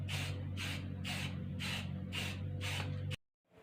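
Repeated bursts of spray paint hiss onto a Nerf Stryfe blaster for a second black coat, six evenly spaced sprays over a steady low hum, then an abrupt cutoff into silence.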